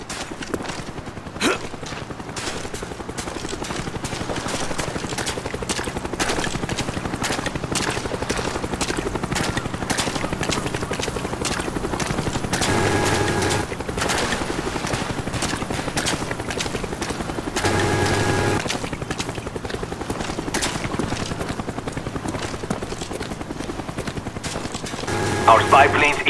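Cobra attack helicopter in Call of Duty Black Ops multiplayer, a steady rotor drone running throughout amid scattered gunfire bursts and game voice callouts, with louder swells near the middle and end.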